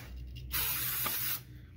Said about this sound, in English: spray it off a little bit